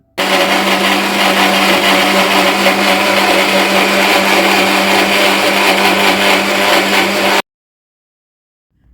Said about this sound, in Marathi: आता हे मिक्सरला बारीक फिरवून घ्यायचं आहे